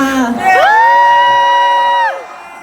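Crowd at an outdoor concert at Caribbean Bay, a water park, cheering and whooping in a loud sustained roar of voices, with a long high held cheer that swells and then fades.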